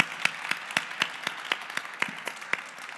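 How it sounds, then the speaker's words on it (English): An audience at a book talk applauds the authors, steady rhythmic clapping of a small crowd with sharp, evenly spaced claps standing out over a softer wash of applause, continuing throughout. "Ladies and gentlemen, a round of applause for Drs."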